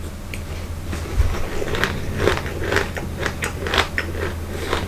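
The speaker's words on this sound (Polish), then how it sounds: "Nudle jak z zupki chińskiej. Twarde, chrupiące." Crunching of a Japanese snack of puffed rice and hard noodles with a salty sauce, a series of crisp irregular bites and chews close to the mouth.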